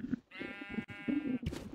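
A sheep bleats in the Minecraft game SheepWars, one short and then a long wavering electronic-sounding baa, near and clear with no talk.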